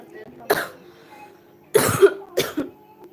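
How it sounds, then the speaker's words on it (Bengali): Three separate coughs, fairly close: one around half a second in, then a heavier burst followed by a shorter one. "কাশি হয়েছে ভীষণ"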